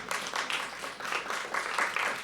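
Audience applause at a live poetry open mic at The Habitat, with many hands clapping in a steady, fairly close wash that pulses slightly throughout, with no talking over it.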